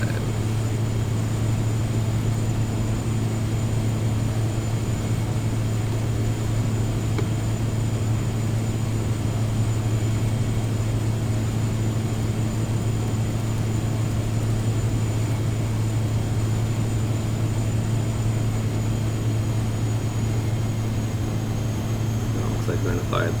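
Turbine drone of a DHC-3T Turbo Otter floatplane in flight fills the cabin as a steady, loud low hum, with a faint high whine above it and a pilot speaking intermittently beneath the engine noise.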